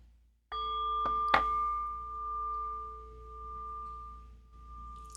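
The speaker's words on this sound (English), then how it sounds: "And by the sound of the bell" A small bell rung during a tarot ritual, struck once, then a brighter strike a moment later, its clear tone lingering and slowly fading over several seconds, close and alone.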